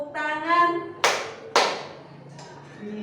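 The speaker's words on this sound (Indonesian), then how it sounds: "Kalau kau suka hati tepuk tangan." A few loud, sharp claps from a teacher leading the Indonesian children's song "Kalau Kau Suka Hati" in a lesson for children with physical disabilities, with a singing voice before the first clap and a brief vocal sound near the end.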